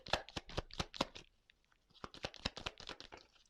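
Tarot cards being shuffled close up, quick bursts of riffling and flicking, with a short pause in the middle before a second run.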